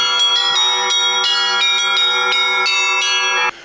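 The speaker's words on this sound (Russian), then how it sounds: "Его место заняла умная система, запрограммированная на различные перезвоны." Church bells played by an automated smart chime system ring out in a loud, rapid sequence of overlapping metallic strikes, resonant tones layering continuously before the peal cuts off near the end.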